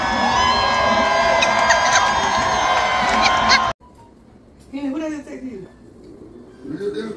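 A crowd cheers and screams loudly in a dense, sustained wall of shouting that cuts off abruptly midway, leaving quieter scattered voices and some talking afterward.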